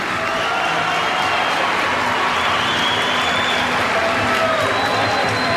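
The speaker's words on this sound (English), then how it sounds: "how about a nice round of applause for both fighters" A large fight-night crowd applauds both fighters before the decision, a dense, steady wash of clapping and cheering that stays loud and even throughout.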